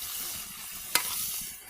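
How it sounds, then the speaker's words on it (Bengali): Fish frying in a pan over a village cooking fire, a steady sizzling hiss with one sharp pop or clatter midway, close and alone without voices. "এই তো মাছ ভাজা প্রায় শেষের দিকে"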